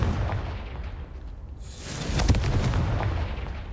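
A Confringo spell explosion in the video game Hogwarts Legacy booms out loud and close, a single blast with a rumbling tail, no voices.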